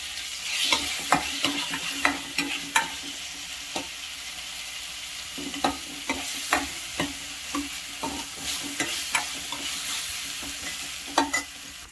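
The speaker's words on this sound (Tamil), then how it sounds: "இதெல்லாம் போட்டு நல்லா வதக்கணும்." Food for potato sambar sizzles steadily in a pan as a spoon stirs and taps against it in irregular clicks throughout.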